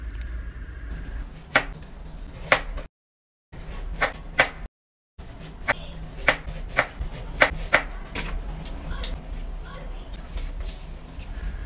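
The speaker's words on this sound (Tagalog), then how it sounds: "hiwain ko muna dito yung aking mga gamiting gulay" Vegetables for chop suey, carrots among them, are sliced on a cutting board with sharp, uneven knife taps at close range. Low background sounds run between the cuts, and a couple of gaps fall silent.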